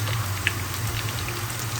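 White cumin seeds and curry leaves sizzle in hot oil for a tadka, a steady close crackle and hiss with small pops scattered through it.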